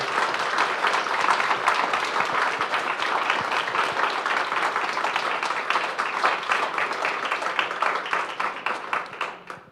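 Attendees at the Ontario Bat Network annual general meeting applaud the presenters, a dense, sustained burst of many hands clapping that tapers off at the end.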